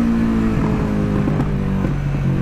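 A Kawasaki Vulcan S motorcycle running loud and close with an aftermarket exhaust, a dense continuous engine drone with a few sharp crackling pops from the exhaust, no talking.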